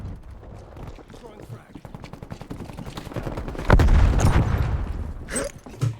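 Hostile artillery turrets fire in an online shooter match, with rapid crackling bursts building to a heavy boom partway through and more blasts after it. Voices talk over the fire.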